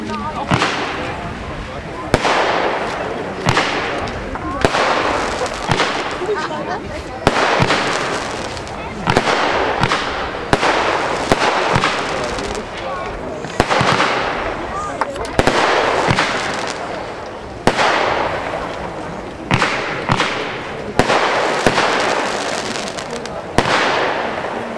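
A 15-shot fireworks battery fires a long run of rapid shots and crackling bursts, one after another, loud and sustained with a few brief gaps.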